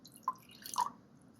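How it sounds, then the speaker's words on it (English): Water goes into a glass container for a strawberry DNA extraction experiment, heard as two faint, separate drips or splashes against a quiet background. "you're going to add first your 90 milliliters of water to that"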